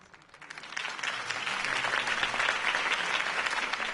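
Crowd applause after a campaign speech in the Telltale Batman video game, swelling quickly from quiet to a sustained, dense clapping that carries on steadily.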